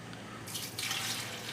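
Lemon water being poured into a grinder jar, a soft splashing trickle that becomes fuller and louder midway, close and faint, with no talking.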